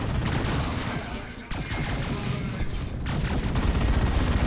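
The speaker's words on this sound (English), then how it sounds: "I'm just hearing a bunch of Dark Creepers shooting." Dark Reapers fire in the Warhammer 40,000: Dawn of War 2 battle, a dense barrage of overlapping gunfire and booms with sharp volleys near the start, middle and end, under faint talk.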